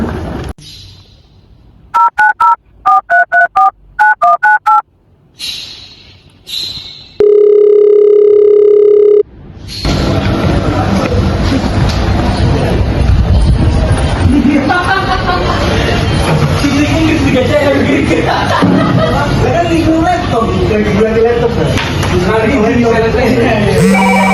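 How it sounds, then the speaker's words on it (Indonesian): A phone call is placed: quick rapid keypad beeps, then a steady ringing tone for a couple of seconds, followed by loud, busy sound with people talking. "Mat, telepon Mat"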